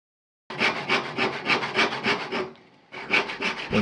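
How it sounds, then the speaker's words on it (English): Hand saw cutting wooden side pieces for a painting frame, about a dozen even rasping strokes close by, a short pause, then the sawing resumes; no talk. "I'm sawing out the side pieces that I'm going to stick onto the main frame"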